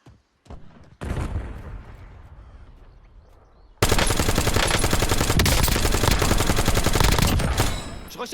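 Sustained automatic gunfire in the Warzone video game, starting with a few isolated shots and a softer stretch, then erupting into a loud, continuous rapid-fire barrage that runs for several seconds before cutting off.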